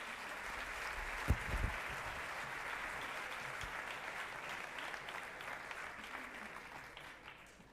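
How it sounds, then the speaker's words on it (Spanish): A large audience at an energy gala evening in Vigo gives sustained, dense applause that holds steady at a distance and slowly tapers toward the end. "Otro aplauso, por favor"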